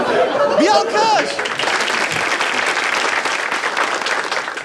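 A studio audience at a Turkish talk show bursts into loud, sustained applause with cheering and chatter, including a rising whoop near the start, continuing steadily throughout.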